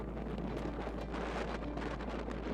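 Strong wind blows across the rocky Isle of Skye landscape, a steady, close, buffeting rush with a deep low rumble and no voices.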